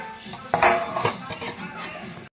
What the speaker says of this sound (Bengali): আমি ঢেকে দিচ্ছি।